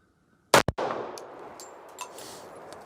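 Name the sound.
gunshot from a Global Defense 1911 pistol, 230 grain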